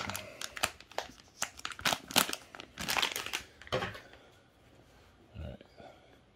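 Crinkly electrostatic plastic bag being handled and opened while unboxing Falcon F16v4 controller parts, bursts of close crackling and rustling that trail off into quieter handling.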